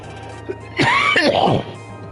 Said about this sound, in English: I am really sorry about the coughing.